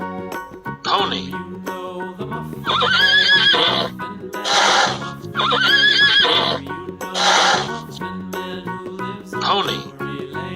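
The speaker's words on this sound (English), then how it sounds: "Pony." Pony neighing in repeated loud whinnies, two or three long calls set over steady background music, with faint hoof clip-clop beneath.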